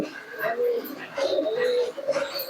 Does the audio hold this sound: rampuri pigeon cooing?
yes